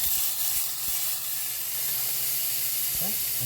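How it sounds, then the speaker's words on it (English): Onions browning in a pan give a steady, close sizzling hiss throughout, with a few faint clicks and no voices. "I start out by browning onions down, and then I'm going to go ahead and add a tablespoon of garlic."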